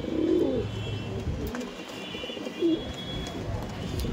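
Madras pigeons brought from Delhi give soft, low coos in a loft, one early and one a couple of seconds later, over a steady background hum.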